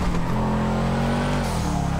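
A race car engine in GTA V accelerates hard, holding a loud, rising drone that dips briefly at a gear change and then keeps pulling, with no voices over it.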